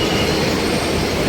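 A Hyderabad metro train arrives, a loud, close, steady roar of wheels on rail with a sustained squealing edge throughout.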